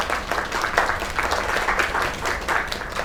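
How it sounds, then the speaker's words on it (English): Applause from an in-game audience in the video game Lake, a steady wash of many hands clapping at moderate volume throughout the short stretch. "Another round of applause."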